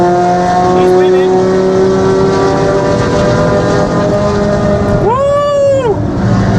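A drag racing car roars at Santa Pod as a loud, sustained engine note, then rises sharply in pitch around the five-second mark as it accelerates away. Voices can be heard alongside the engine.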